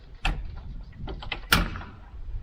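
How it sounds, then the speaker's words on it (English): A key turns in the door of a small church on a Greek island, with a clack of the lock, quiet rattling, then a louder sharp knock of the door giving way. "we have a key in the door"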